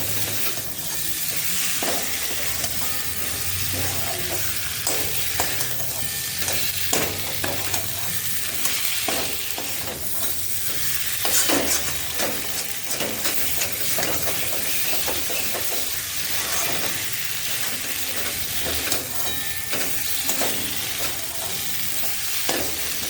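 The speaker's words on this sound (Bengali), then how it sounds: "মশলাটা একদম ভাজা হয়ে গেছে, ভেজে রাখা পটল আলুটা এর মধ্যে দিয়ে দিলাম" Pointed gourd and potato pieces frying with spices in a pan, a dense steady sizzle with frequent clattering stirs and scrapes of a spoon, close and fairly loud, with no talking.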